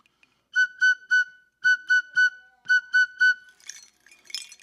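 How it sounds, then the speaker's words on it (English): A traditional Umatilla whistle carved from a turkey bone gives three sets of three bright, clear, steady tones, evenly spaced and loud up close, followed by a few fainter clinks. "This is a bird bone, a turkey bone."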